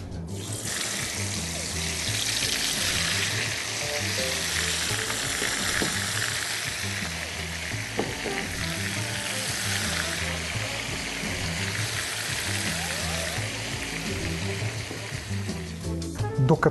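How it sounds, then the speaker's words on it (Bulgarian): Silver carp frying in hot oil in a pan gives a loud, dense, continuous sizzle with crackles and spits throughout, close up and steady with no pauses. "Загрято олио пържа до златисто."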